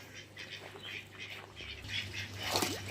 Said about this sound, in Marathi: आणि बदकं पॅक पॅक पॅक पॅक मागेपासून तुम्हाला आवाज येतच असेल